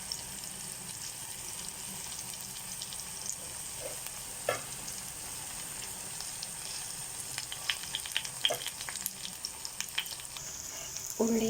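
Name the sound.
curry leaves sizzling with sautéed onion and tomato masala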